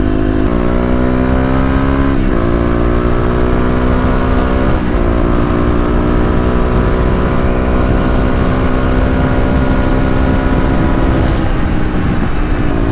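A Kawasaki KLX250 motorcycle fitted with a 13-tooth front sprocket cruising on a highway, a loud close steady engine drone with shifting harmonic tones and brief dips as the throttle eases, plus constant wind rush, no talking.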